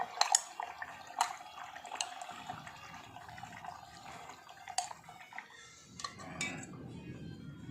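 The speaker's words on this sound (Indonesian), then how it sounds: "Aduk-aduk." A regia solution being stirred in a container, with intermittent clinks of a utensil against the vessel and soft liquid swishing between them, close and fairly quiet.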